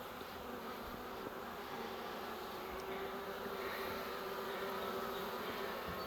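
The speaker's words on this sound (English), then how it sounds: "It's a heck of a swarm." A dense, continuous buzzing of a large honeybee swarm fills the air, steady and close, with no pauses.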